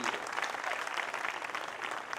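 Steady, dense applause from an audience at a live Hindi poetry gathering during Ganesh Mahotsav, continuous and fairly loud throughout with no voices standing out.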